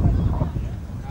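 Gusting wind buffets the microphone at an outdoor football ground during a match, a low rumbling roar with faint crowd sound behind it.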